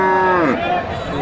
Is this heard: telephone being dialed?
no